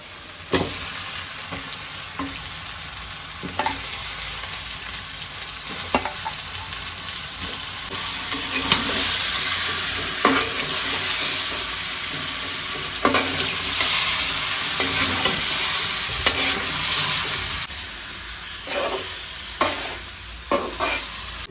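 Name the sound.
frying spice paste with chili powder and salt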